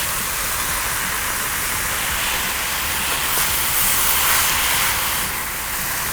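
Capsicum sizzling hard in a hot stir-fry wok for noodles, a loud, continuous broadband hiss and crackle close up, steady throughout with a slight swell near the end.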